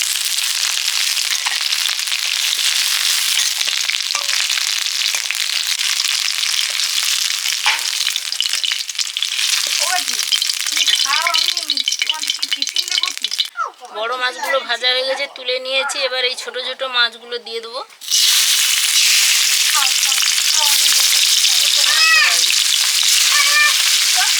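Fish sizzles loudly and steadily in hot oil. Voices talk briefly partway through, then the crackling frying carries on.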